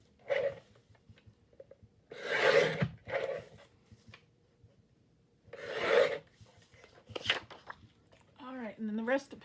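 Collage paper is trimmed with a paper cutter, producing several separate rasping, scraping slices, each a second or so long and close by, with quiet gaps between and a voice talking toward the end.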